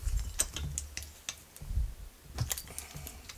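A socket wrench ratchets on a 13 mm nut of a Losi 5ive T remote-control car during a parts-kit build, giving short bursts of close, quiet clicking among small handling knocks.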